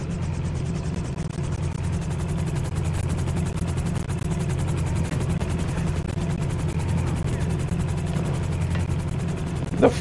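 A helicopter's steady, thudding rotor drone in GTA V game audio runs continuously at a constant loudness, with a brief sharp noise near the end.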